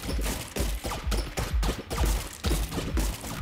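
Bear enemies firing their odd weapons in the roguelike Neon Abyss, a rapid series of punchy game shots in regular bursts, loud and close with no talk over them.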